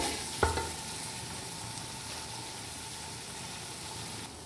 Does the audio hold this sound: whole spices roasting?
yes